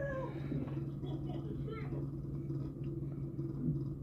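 A cat meows over steady low background hum, several short rising calls at moderate distance, with people talking nearby.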